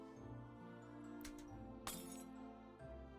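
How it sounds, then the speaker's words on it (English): In the Royal Alchemist video game, a glass cup falls from a table and shatters, giving a bright clink and then a sharp crash over a steady musical background, with no talking. "The abrupt movement of Prince Aurelius's hand knocks the glass cup from the table. It falls and shatters, spraying wine all over the floor."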